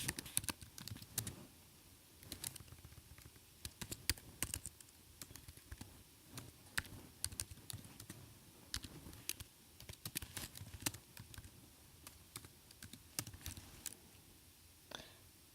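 Someone types on a computer keyboard, keys clicking in quick irregular bursts with brief pauses, close and fairly quiet against a faint background hiss, with no voices.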